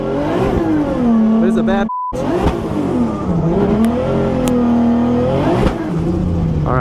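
A BMW E36 drift car revs hard in a burnout box, its engine rising and falling in loud, near sweeps with a brief electronic beep and a cut, while someone talks over it.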